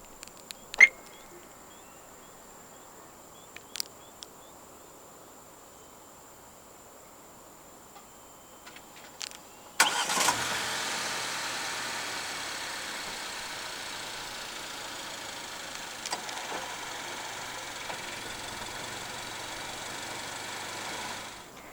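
A 2024 Chery Tiggo 7 Pro 290T engine starts by remote start after a few quiet clicks. It catches abruptly, then settles into a steady, moderately loud idle that runs to the end, with no talking.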